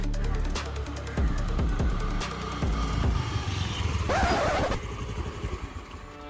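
A motorbike goes by with a rising and falling engine rumble, then a louder, brief rushing swell near the end before fading.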